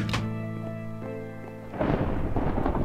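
Thunder from a thunderstorm in the Minecraft video game: a low rolling rumble that swells into a louder, crackling burst of thunder toward the end, heard alone without talk.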